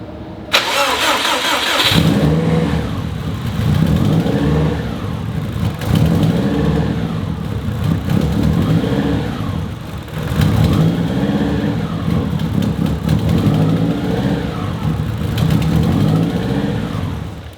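A Subaru RSTI's engine cranks and catches, then settles into a rough idle, with repeated blips of revving rising and falling throughout, loud and close.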